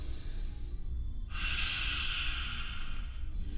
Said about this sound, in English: We take a big breath in through the nose.